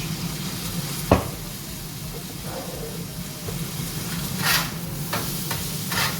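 Aged balsamic vinegar hits a hot pan of onion and mushrooms, a steady close sizzle with a sharp crackle near the start and a few brief hissing flare-ups later.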